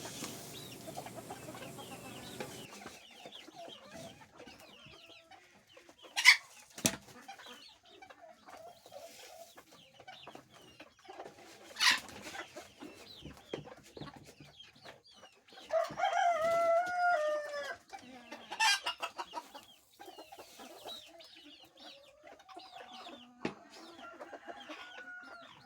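BB Red chickens and baby chicks cluck at feeding time, with scattered soft clucks, sharp peeps, occasional loud squawks and a short crowing burst, all fairly close with no talking.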